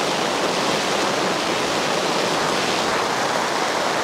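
Heavy rain pours onto a pop-up camper canopy, a dense and steady hissing roar that holds at constant loudness throughout, with no voices.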